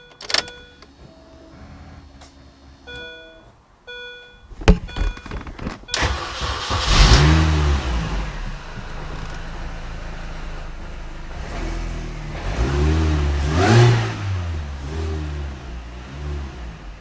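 BMW E33b car engine with a slight vacuum leak, starting after some electronic beeping, then revved twice in strong rising surges that fall back to a steady idle, loud and close.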